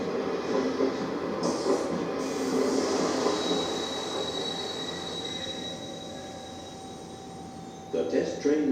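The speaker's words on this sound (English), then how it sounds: "The test train returned as the sky grew pale." A test train on the South Manchuria Railway rolls back along the track at dawn, a continuous rumble of freight cars with a high sustained wheel squeal and clattering bursts near the end.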